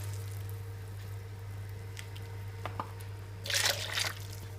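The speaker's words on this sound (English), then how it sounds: "Now I get the broth out and keep it in a container for later" Homemade Polish chicken broth for rosół is poured out into a container, a brief faint splash and trickle near the end over a low steady hum.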